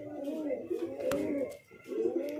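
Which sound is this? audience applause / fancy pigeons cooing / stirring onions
fancy pigeons cooing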